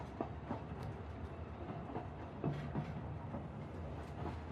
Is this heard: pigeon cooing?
no